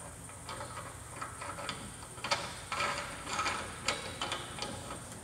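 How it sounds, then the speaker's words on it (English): Ratcheting clicks from tightening 1/2-inch T-bolts on a mirror bar mount for a 2021 Ram, coming in irregular bursts of close mechanical ticking against a low steady hum. "Now you want to go back through and tighten all your T-bolts down"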